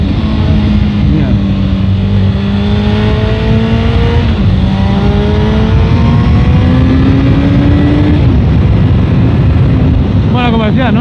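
Honda CBR 600 F3 four-cylinder motorcycle engine at full, close volume, winding up through repeated rising pitch sweeps as it accelerates through gears with wind buffeting, a high-revving inline-four howl filling the whole stretch.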